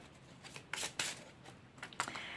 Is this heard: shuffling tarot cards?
yes